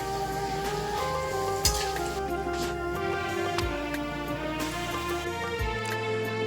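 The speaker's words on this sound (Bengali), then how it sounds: "গরম গরম লুচি করছি।" Luchi, Bengali puffed bread, fries in hot oil with a continuous close sizzle and bubbling. Scattered crackles and a few clinks rise above a steady low hum, with no voices.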